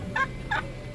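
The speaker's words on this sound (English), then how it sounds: "Look, guys, these are turkeys right here." Wild turkeys gobble outdoors along a nature drive, two clear gobbling calls a moment apart and a third starting, close and fairly loud over a low background rumble.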